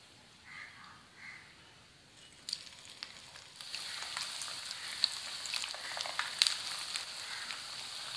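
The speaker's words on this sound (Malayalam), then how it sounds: "എണ്ണ ഇവിടെ ചൂടായിട്ടുണ്ട്. നമ്മൾ പരത്തി വെച്ചിരുന്ന വടയെല്ലാം ഇത് ഫ്രൈ ചെയ്തെടുക്കാം." Flattened vadas dropped into hot oil set off a rising sizzle that turns into a steady bubbling crackle with sharp pops, moderately loud and close, after a quieter start, with no speech.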